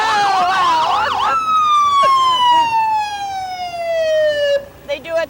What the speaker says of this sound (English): What would a parade be without a fire engine?